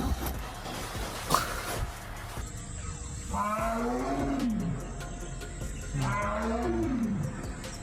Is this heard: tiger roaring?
yes